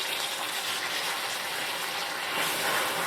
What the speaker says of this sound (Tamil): நம்ம இதில் ஒரு 1/4 டம்ளர் தண்ணி சேர்த்துக்கலாம்